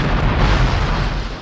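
Cake exploding as a film sound effect, a loud deep booming blast with heavy low rumble sustained through the whole short moment, close and alone.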